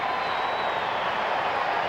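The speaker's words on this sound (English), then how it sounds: "This huge crowd roaring" A huge baseball stadium crowd at an Orioles–Angels game roars continuously, a dense sustained wash of distant cheering with no break, steady in loudness throughout.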